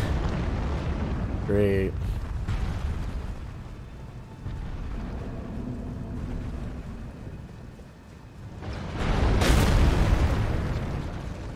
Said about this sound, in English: Oh my god, they're shooting.